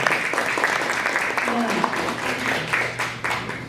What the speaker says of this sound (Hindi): एक बार कहूँगा कि ज़रा जोरदार ताली बजाइएगा